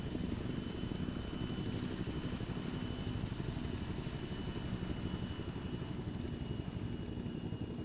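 Steady, loud rotor and turbine drone of a helicopter in a military video game, a continuous close engine roar with no pauses and no talk.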